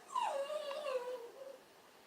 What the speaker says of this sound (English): oh, got a mad puppy.